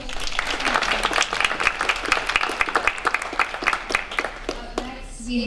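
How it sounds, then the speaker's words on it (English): An audience at a high school start-up pitch event gives a round of applause, dense clapping that holds steady and then thins toward the end, with some crowd noise mixed in. "Another round of applause for Hesper High School"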